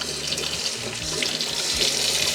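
Tap water runs steadily into a sink while a stainless steel pet water fountain bowl is rinsed and washed, a close, continuous splashing stream with slight shifts as the bowl moves under it.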